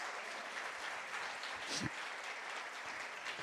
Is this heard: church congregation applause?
yes